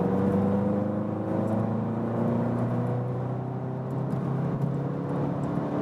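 A VW Golf GTI Clubsport in sport mode pulls hard from 90 km/h, its engine droning steadily with a rising whir under continuous road and wind noise, heard from inside the cabin.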